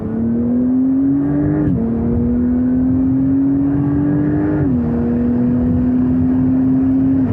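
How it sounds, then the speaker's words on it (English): A Porsche 911 Turbo S accelerates hard in third gear on the Autobahn. A loud, steady engine drone climbs in pitch with two brief dips at shifts, heard close from inside the car. "go back to third gear for example, and then I can accelerate out"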